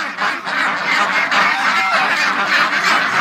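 Ducks and geese call together in a dense, continuous chorus of quacks and honks, loud and close throughout with no talking.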